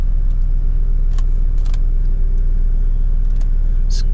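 A modded Nissan GTR engine set to race mode, idling with a loud, steady low rumble close by, with a few faint clicks and ticks on top.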